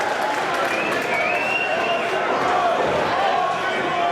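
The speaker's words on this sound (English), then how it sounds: "The crowd loves it." A wrestling crowd at a NEW show in Vancouver, Canada cheers loudly and steadily throughout, a dense roar with no breaks and a commentator's voice faintly mixed in.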